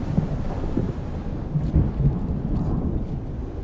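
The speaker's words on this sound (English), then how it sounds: "And we're like in the storm right now." A storm rolls through in the video game Dune Awakening, with deep rumbling thunder and a steady wash of wind and rain noise, loud and continuous throughout.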